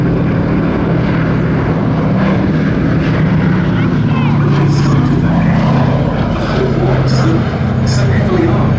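B-17G Flying Fortress bomber Sally B flying at Duxford, its piston propeller engines a loud, steady drone throughout, with someone narrating over the aircraft.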